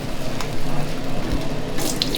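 Running water splashes as it rinses an automatic cooking machine, a steady close gush of tap water with small clatters near the end and no speech.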